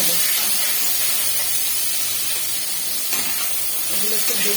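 Asafoetida frying in hot oil for a light rohu fish curry gives a loud, steady hiss and sizzle throughout, close up, with faint crackles underneath.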